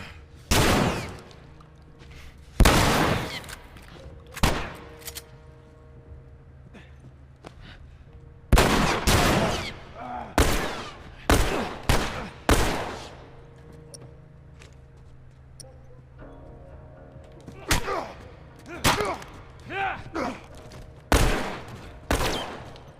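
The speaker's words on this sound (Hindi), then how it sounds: "भाई गोलाबारी कर रहे हैं वो लोग।" Repeated bursts of gunfire in The Last of Us gameplay, loud and sharp, in irregular volleys with short pauses, over a low steady background hum.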